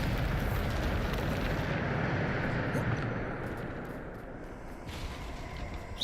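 The Bombarda explosion spell goes off in the video game Hogwarts Legacy, a loud sustained roaring blast that fills the sound and slowly fades over several seconds, with a voice speaking over it.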